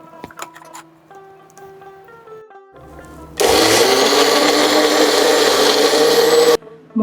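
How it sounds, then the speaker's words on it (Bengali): A kitchen blender grinds coriander and mint leaves with a little water into a fine paste: a loud, steady motor whir kicks in after a few seconds of quieter clicks and tones, runs about three seconds, then cuts off abruptly. "1 মুঠো ধনে পাতা আর 1 মুঠো পুদিনা পাতা, 1/2 টিস্পুন নুন, সামান্য জল দিয়ে একটা মিহি মশলা পিষে নেব।"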